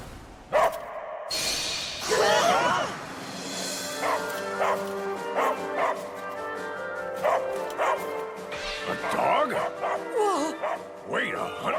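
A hunting dog gives a series of yappy, rhythmic barks and whimpers at mid distance, mixed with speech and other background sound.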